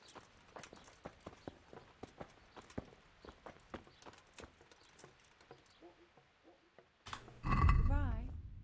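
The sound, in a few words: horse walking in Kingdom Come: Deliverance video game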